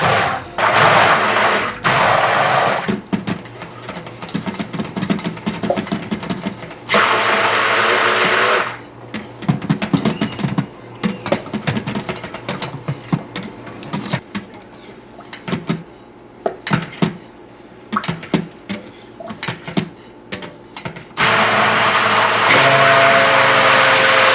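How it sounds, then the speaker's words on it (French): A stick blender whirs in loud bursts through homemade soap mixed with white clay, motor surges alternating with brief pauses and clattering bits, no talk. "je prends le pied mélangeur pour bien mélanger le tout"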